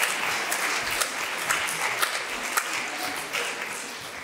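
An audience at a French literary event applauds three Oulipo members heading to the stage, a steady wash of clapping with a few sharper individual claps standing out at a regular pace.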